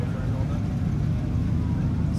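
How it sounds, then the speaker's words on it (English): A 1964 Ford Galaxie 500 with a 408 V8 idles at a street rod show, a steady low rumble held close and loud for the whole stretch while a voice talks over it. "you can hear something rumbling on the side of me"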